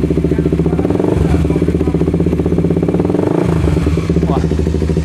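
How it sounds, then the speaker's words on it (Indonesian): Modified Kawasaki Ninja 250 SL motorcycle engine, a loud close idle with steady rapid pulsing and a couple of sharp throttle blips, while people talk nearby. "Coba saya geber dikit boleh Mas ya?"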